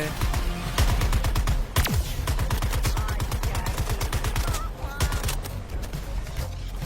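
Heavy automatic gunfire rattles almost nonstop in Suicide Squad: Kill the Justice League, loud rapid shots in long bursts with brief voices mixed in the game action.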